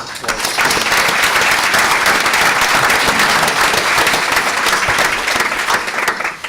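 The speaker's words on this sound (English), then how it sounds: "So I want to applaud." Loud, sustained applause from a mayoral debate audience swells in after a short lead-in and holds dense and even before easing off, with a voice faintly underneath.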